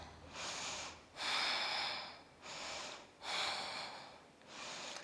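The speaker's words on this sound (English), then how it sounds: "Maybe you're panting like me" Heavy panting during a vinyasa yoga flow: deep, rhythmic breaths alternating in long loud pulses, close and raspy, with no talking.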